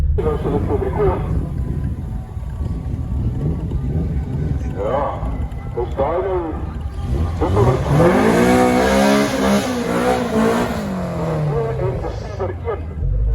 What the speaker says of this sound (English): do a burnout to get a bit of heat in the tires